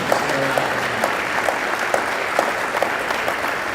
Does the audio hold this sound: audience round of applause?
yes